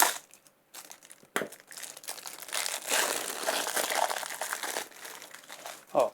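Someone opens a plastic Temu package with continuous crinkling and tearing of the plastic, close and fairly quiet, with short pauses and a sharper rustle at the end.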